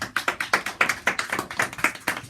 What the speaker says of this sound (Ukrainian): Дякую за аплодисменти